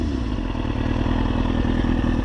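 A 2003 Kawasaki ZX6R motorcycle engine runs close by at a steady, even idle, with a rapid mechanical pulse and a slight clatter throughout.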